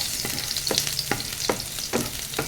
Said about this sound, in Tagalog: Hintayin na mag-brown ang ating bawang para mabango.